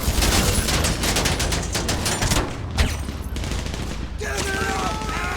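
Dense, continuous gunfire against armored vehicles in GTA 5 Online, a loud rapid rattle that fills the whole stretch, with a brief dip and then a steadier hiss mixed with game sounds.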